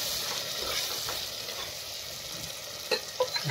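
Cumin seeds dropped into hot oil for a tempering over cooked-down tomatoes, giving a steady close sizzle and frying hiss with a few sharper crackles and stirring clinks near the end; no talk.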